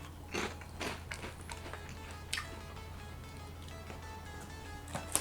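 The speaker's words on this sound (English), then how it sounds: "I know that the crunch is going to be a little bit softer" Cheetos-flavored potato chips crunched and chewed up close, a few distinct crisp bites followed by softer, irregular chewing clicks over a quiet background hum.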